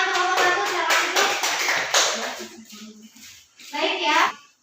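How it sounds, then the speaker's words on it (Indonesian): Classroom applause for a student group in a high school lesson, a burst of quick clapping from many hands with children's voices mixed in, then fading before another short round of clapping. "Tepuk tangan untuk kelompok 1."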